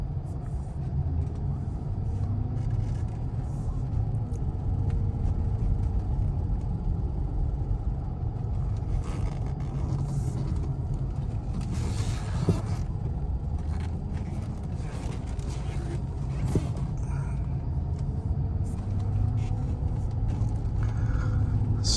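A 2004 Jaguar XJ8 luxury sedan heard from inside while driving through city and freeway traffic, with a steady low road and engine rumble and occasional scrapes and bumps, no talk.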